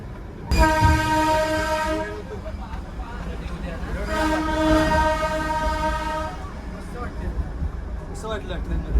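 The Darjeeling toy train sounds two long, loud horn blasts over a rumbling, rattling ride, with voices chatting nearby.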